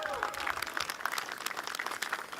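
Division of Highways workers at the grand opening of a King Coal Highway section applaud and cheer, a dense, moderately loud crowd sound filling the whole moment with voices mixed in.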